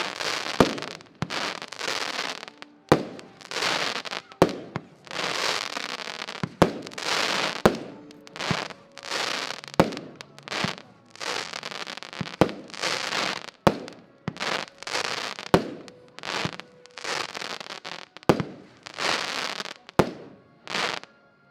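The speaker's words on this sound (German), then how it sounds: "Es folgt dann die Nummer 10, Pixel mit 12 Schuss" A Pixel 12-shot fireworks battery fires in the open, a long run of loud, sharp bangs and crackling bursts following one another at a quick, irregular pace.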